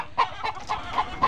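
Tiger chicken on a farm, clucking close by in a quick series of five short, nasal calls spaced roughly evenly over a second, each clear above faint background noise.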